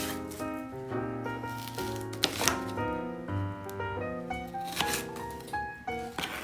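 A knife chops one medium shallot into tiny pieces on a board, in quick uneven taps over background music.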